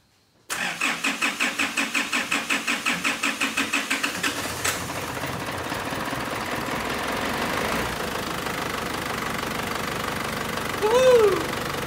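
A Holden Rodeo's 4JH1TC turbo diesel engine cranks in a rapid series of rhythmic starter pulses, catches, and settles into a steady, close diesel idle with a brief whine near the end.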